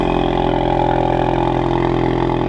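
A Ford Mustang EcoBoost with the High Performance Package idles after a remote start, its engine and exhaust giving a steady, loud, low rumble with a fine regular pulse, close by and unbroken, no voices.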